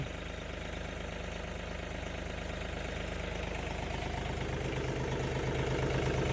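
A Mahindra tractor engine runs steadily while reversing in second gear, a loud, close, continuous low diesel rumble with a fast even knocking pulse that grows slightly louder toward the end.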